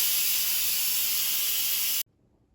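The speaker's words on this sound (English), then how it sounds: "so let's quick release the steam" An Instant Pot's quick pressure release, cooking frozen hamburger patties, sends out a loud, steady rush of hissing steam that holds for about two seconds and then cuts off abruptly into near silence.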